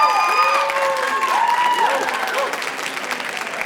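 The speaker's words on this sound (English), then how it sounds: "go ahead and give her a round of applause" A school writing expo crowd applauds and cheers after a debate-style battle, a loud, steady wash of clapping with whoops rising above it, easing slightly toward the end.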